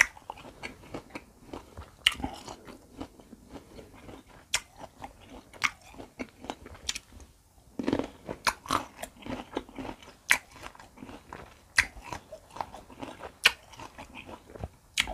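Sour marian plums dipped in jaew, a spicy Thai chili dip, are bitten and chewed close up, producing repeated crisp crunches and wet mastication sounds in an irregular rhythm across the clip.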